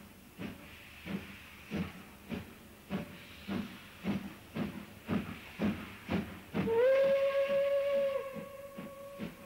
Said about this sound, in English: in the station, a passenger train slowly pulls away from the platform